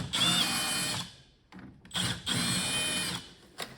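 A power drill whines in bursts while undoing the terminals of an old electric shower, with several high-pitched runs separated by short pauses, close and fairly loud.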